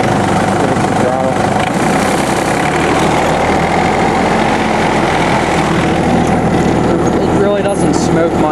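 John Deere F1145 diesel mower engine running at throttle, a loud steady close rumble with a heavy low drone and no clear rise in pitch.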